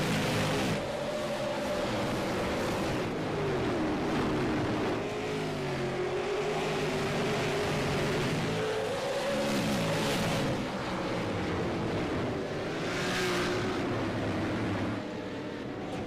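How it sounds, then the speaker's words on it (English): A pack of race cars roars steadily around North Wilkesboro in iRacing, engines droning continuously at full throttle with rising and falling pitch as cars pass, loud and unbroken throughout with no talking. "give you a feel the roar of these cars"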